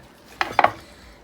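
Knife slicing into a cooked seafood-stuffed lobster tail shell, giving a couple of short crisp crunches close by, with no talk.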